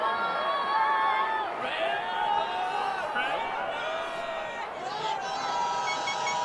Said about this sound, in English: audio of the crowd screaming REDBUD playing on repeat